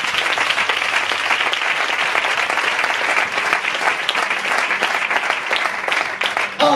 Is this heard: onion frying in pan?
no